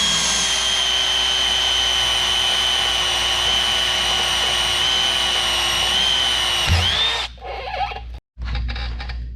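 A 1/2 inch electric drill whines at a steady high pitch while boring into the steel of an Eterra 4500 cone log splitter, close and loud, then slows and stops with brief rattling.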